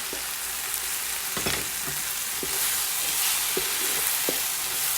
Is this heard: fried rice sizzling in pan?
yes